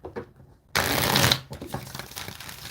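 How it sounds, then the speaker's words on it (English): Tarot cards are riffled and shuffled close up in a steady rustling burst, then quieter shuffling continues afterward. "I'm just going to shuffle these a little bit more."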